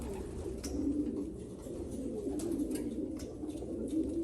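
Racing pigeons in a loft cooing softly, low repeated coos over a quiet room hum, with no one talking.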